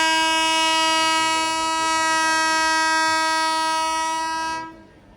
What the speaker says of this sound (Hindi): तो सामने से अभी एक ट्रेन आ रही है।